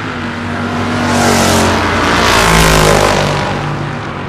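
Two drag cars, a Camaro and a 1965 Chevelle, roar down the strip in a Sportsman eliminations round at a West Coast Hot Rod Association season finals, loud engine noise swelling and peaking mid-run before easing off, with no talk.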